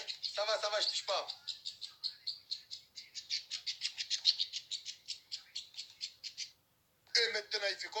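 A small rescued fledgling chirps repeatedly in rapid, high-pitched bursts, close and fairly clear, with a brief pause near the end before the chirping resumes.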